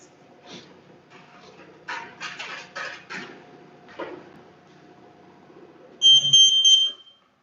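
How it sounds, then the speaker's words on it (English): Kitchen timer being set while mixing ramen noodle dough, a few soft clicks and button presses followed by a bright, steady electronic beeping burst near the end, close and clear. "she's setting the timer"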